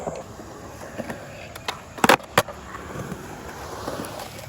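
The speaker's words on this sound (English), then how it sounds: "I just landed the fakie big spin, first try" Skateboard rolling on pavement, then a fakie big spin landed with two sharp, loud wheel-and-deck impacts in quick succession, followed by steady rolling.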